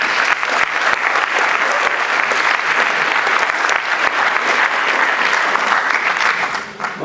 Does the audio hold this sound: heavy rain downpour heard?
no